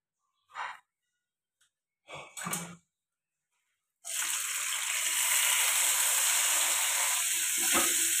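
Tomato hits a hot pan with garlic and spices and bursts into a loud, steady sizzle that holds to the end. A few short sighs and handling noises come before it.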